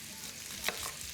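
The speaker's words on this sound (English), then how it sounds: "break off tiny little irregular balls of minced beef and just throw these in and brown the meat off" Small irregular balls of minced beef brown in a pan with a steady, moderate sizzle and a brief stirring scrape midway, close up and unaccompanied by voices.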